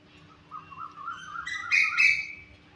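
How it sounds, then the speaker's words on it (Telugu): Birds in a tree outdoors chirp and call, rising into a run of loud, bright, overlapping tweets before fading, with a faint low hum beneath. "చెట్టు పైన చూడండి పక్షులు అరుస్తూ ఉన్నాయి"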